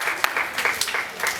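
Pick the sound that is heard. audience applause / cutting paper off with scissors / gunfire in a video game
audience applause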